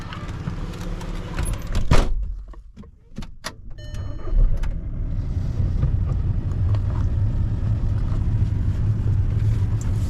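A small motorbike, freshly fuelled, rides on a road in Norway: after a few sharp clicks and thumps the engine and wind noise build into a steady, loud rumble that continues to the end.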